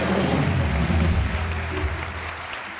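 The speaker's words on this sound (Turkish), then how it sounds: "Konuklarımıza toplu bir alkış alalım." A studio audience at a Turkish television talk show gives loud, dense, continuous applause for the guests, close and steady throughout.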